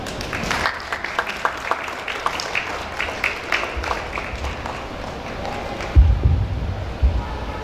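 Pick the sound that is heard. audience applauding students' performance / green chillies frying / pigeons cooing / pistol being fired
audience applauding students' performance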